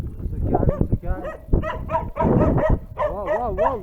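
Several dogs bark and yip loudly and close by, with rapid overlapping barks and a whining howl toward the end.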